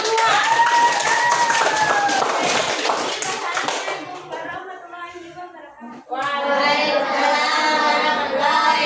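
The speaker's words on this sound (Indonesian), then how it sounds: "Tepuk tangan untuk kelompok" Classroom applause for a student group, a brisk burst of clapping from children that fades into chatter and voices, followed by renewed noisy talk and movement in the room.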